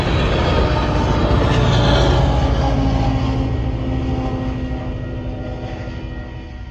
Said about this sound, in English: At least an EMD wraps up the train.